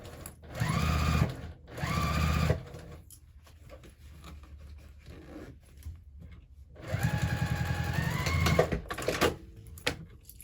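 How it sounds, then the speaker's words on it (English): A sewing machine runs close and steady, stitching a quarter-inch seam on a fabric hobo bag in two bursts, then falls quiet for several seconds before a longer run of stitching. "sew that at a 1/4 inch seam allowance"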